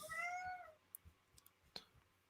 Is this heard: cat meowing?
yes